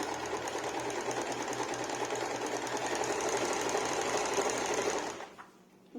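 A sewing machine runs steadily, stitching fabric for a multipurpose bread bag, its motor hum and needle chatter loud and continuous before cutting off near the end.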